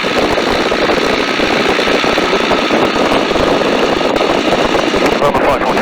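A Tiger Moth biplane's engine runs steadily as it taxis across a grass runway at Duxford, a continuous droning rumble held at an even level throughout.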